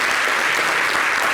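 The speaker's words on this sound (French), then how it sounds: "On peut l'applaudir, s'il vous plaît." A crowd claps for a speaker at a gathering in Côte d'Ivoire, dense steady applause lasting the whole moment with no talk over it.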